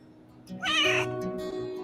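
A cat gives a single short, clear meow up close, drawn out briefly and then fading, in a quiet room.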